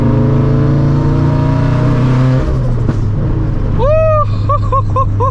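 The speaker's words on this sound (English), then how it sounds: "just enjoy the sound of this T518Z Greddy turbo, man, because it sounds amazing" A turbocharged 2013 Scion FRS with a Greddy T518Z turbo and straight pipe drones loudly and steadily up close, then the revs drop and chirping turbo flutter follows in quick repeated bursts.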